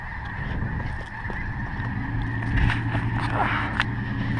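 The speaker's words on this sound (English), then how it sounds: "those birds are annoying the fuck out of me" Geese honk repeatedly near an outdoor car workshop, rough nasal calls overlapping steadily across the clip over a background hum.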